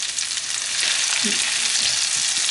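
Diced tomatoes and fresh thyme cooking in a pan give a steady, close, hissing sizzle with faint stirring clinks underneath, and no one talks.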